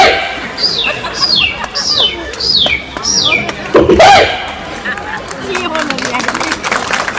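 A man imitates a hen scolding a crow, a rapid series of loud descending squawking calls on a village stage, followed by crowd noise and a burst of clapping from the audience.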